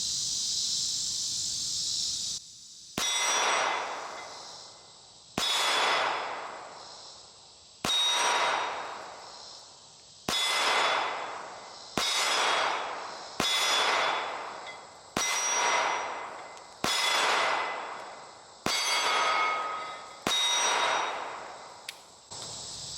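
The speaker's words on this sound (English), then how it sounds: "I'm gonna shoot over here on this other target and see if there's a difference." A Smith & Wesson Bodyguard pistol fires ten evenly spaced shots at a steel target outdoors on a range, each sharp crack followed by a ringing metallic clang that fades before the next shot.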